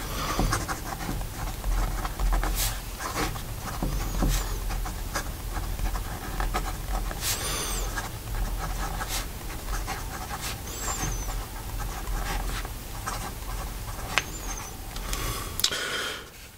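Conklin Conklinetta fountain pen nib scratching across paper in a long writing sample, soft continuous scratchy strokes with occasional sharper ticks, close and quiet, no talking.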